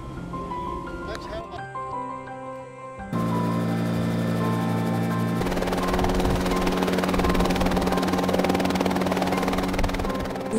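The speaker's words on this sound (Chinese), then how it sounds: "这是一架在前不久刚推出的工业无人机。 在来到空旷的试飞场地之后，操作员们将它固定住，以便进行气流测试。" An industrial unmanned drone helicopter, held in place on an open test field for an airflow test, spins up into a loud, steady rotor drone with a tonal whine that holds for the rest of the clip.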